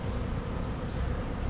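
A honeybee swarm, settling with its queen on a board, hums as a dense, steady buzz that fills the space close by with no breaks.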